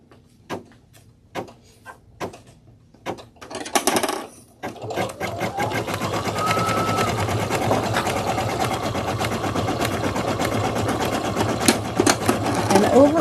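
Sewing machine stitching decorative ear-flap details, with a few sharp clicks and knocks at first, then a steady continuous mechanical whir running close and fairly loud to the end.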